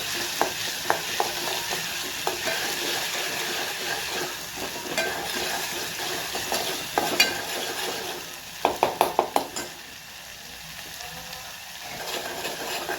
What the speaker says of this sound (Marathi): हे छान असं परतून घ्यायचं